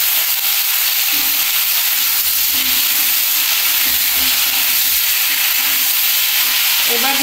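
Cauliflower and potatoes fry in hot oil in a pan, giving a loud, steady, close sizzle and hiss throughout with faint stirring underneath.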